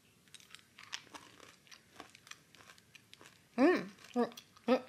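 Someone crunches a chocolate-coated dragée from a vegan chocolate box. A few sharp, close bites and chewing crunches come near the end, after quieter, softer rustles and mouth sounds.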